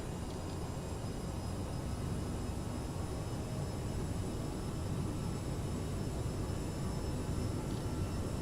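PMDG Boeing 737 engines spooling through a takeoff roll in a flight simulator: a loud, steady jet roar with a broad rushing hiss that holds unbroken for the whole stretch.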